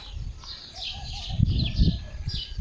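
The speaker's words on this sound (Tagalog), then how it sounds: "may mga ibon sa taas" Birds near a nest high up give soft chirps and coos over low, rumbling outdoor noise, and the calls are faint and scattered across a short stretch.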